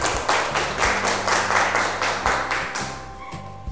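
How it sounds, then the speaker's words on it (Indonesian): Classroom students clap for a group in a quiz, giving a short burst of rhythmic, fairly loud hand claps that form a patterned beat, with a low tonal hum underneath. "Tepuk tangan untuk kelompok"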